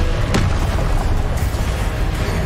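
A loud, dense rumbling blast fills a few seconds, with a sharp crack near the start, as the Confringo fire spell goes off in Hogwarts Legacy, a steady roaring wash with no pause.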